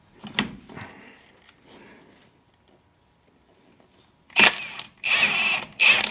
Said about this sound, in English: So we'll take off that 17 millimeter nut.